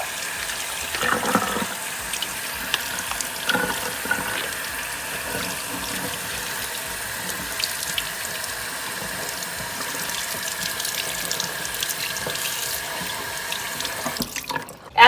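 Tap water runs steadily into a kitchen sink as a lobster tail is rinsed clean, a constant close splashing hiss with small shifts as the tail moves under the stream.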